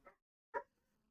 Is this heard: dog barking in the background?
yes